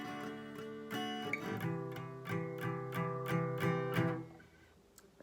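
An acoustic guitar plays the closing strummed chords of the pre-chorus of a song, about half a dozen rhythmic strums ringing clearly on their own before fading out.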